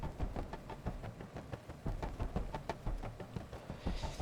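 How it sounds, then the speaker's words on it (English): A music sample run through a grain delay effect, producing a choppy, textured stream of rapid knocking, granular hits in a loose rhythm at moderate, fairly quiet level, with no voices. "this one's a sample also, but I added grain delay"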